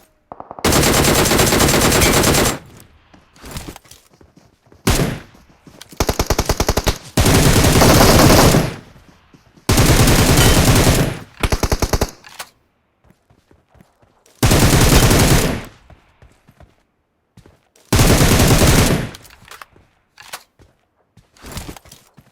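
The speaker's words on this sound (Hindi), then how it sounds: "फिलहाल इसको पेल दिया जाए क्योंकि ये बहुत दूर से फायर कर रहा है।" Bursts of automatic gunfire from the battle royale game BGMI, loud and close, firing in several long volleys separated by brief pauses, with no talking.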